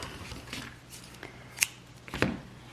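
Sharp metallic snips from scissors cutting crochet yarn at the end of a hat, two distinct close cuts a fraction of a second apart against a quiet room.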